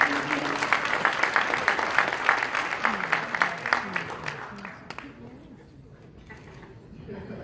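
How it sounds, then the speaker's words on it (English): An audience at a family night gala applauds, clapping loudly for about five seconds with distinct claps in the mix before it dies away to quiet room noise, with a voice over it near the end. "Big round of applause."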